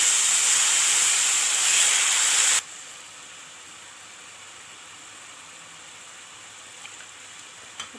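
Broth hits a hot pan of browned spices for a fatta dish, a loud steady steam hiss for about two and a half seconds that cuts off abruptly into quiet simmering.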